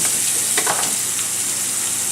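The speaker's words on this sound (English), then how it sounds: "Add a little more oil to the pan if you need to, because your mushrooms are like big sponges." Mushrooms fry in oil in a pan, a loud close sizzle with brief scraping bursts from stirring or turning near the start.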